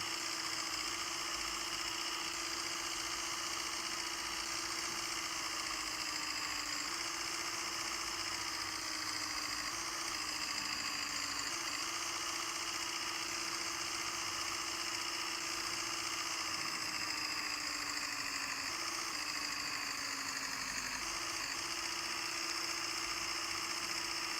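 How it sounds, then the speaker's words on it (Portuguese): A video game truck engine idles steadily and evenly for a long stretch, a constant low drone with a faint rhythmic rattle and no voices. "só gostem de ouvir aqui o motorzão"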